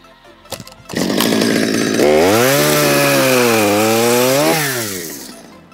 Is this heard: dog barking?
no